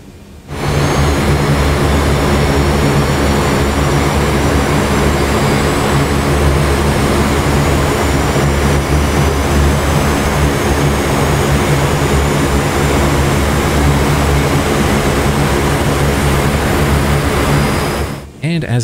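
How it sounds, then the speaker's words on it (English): A C-130 number one engine spooling up and running in the DCS flight simulator, a loud steady turboprop roar with a rising whine, continuous and close for about seventeen seconds before cutting off. "Finally, let's start number one."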